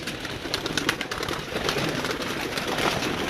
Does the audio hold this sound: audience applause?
no